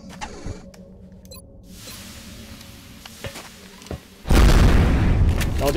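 A rocket detonates in XCOM: Enemy Within, a loud, sudden blast that bursts in after a stretch of quieter in-game ambience and a few small clicks. Its heavy rumble carries on to the end of the clip.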